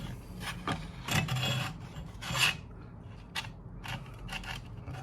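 A sanding belt is fitted and turned by hand on a homemade belt grinder, giving quiet rubbing, rasping and scraping sounds in short irregular bursts, close up.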